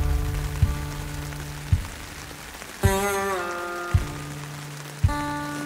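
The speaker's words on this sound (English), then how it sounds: "It's raining enough here where there's water building up on top of the tent" Rain patters steadily on a tent during an off-road electric motorcycle camping trip in the Rocky Mountains, with several sharp louder drips striking at roughly one-second intervals over the constant wash.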